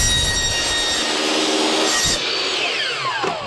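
Power saw cutting through a metal gutter for a 45° angle on a porch, a loud continuous high-pitched grinding screech that shifts pitch near the end of the cut.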